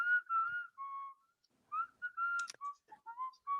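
A person whistles a short, bright melody in several quick phrases separated by brief pauses, close and clear with no talking over it.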